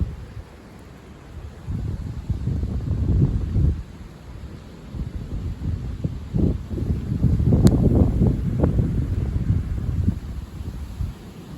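Strong gusts of storm Louis near 80 km/h buffet the microphone in rising and falling waves, building to a louder rush in the second half, with no one speaking.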